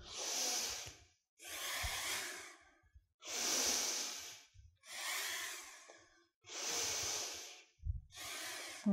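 Deep, steady breathing during a studio yoga workout: six long, audible inhale-exhale rushes follow one another in an even rhythm, close and moderately quiet, with no talking over them.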